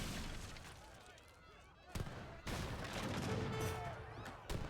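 Gunfire strikes a town center during an Age of Empires III: Definitive Edition match. Repeated muffled shots and booms fall over a busy battle din, with a speaking voice underneath.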